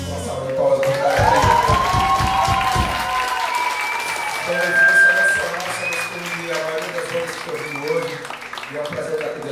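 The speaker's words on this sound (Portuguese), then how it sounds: "Uma salva de palmas." A burst of clapping and applause from a small group, loud at first and then tapering off beneath background noise.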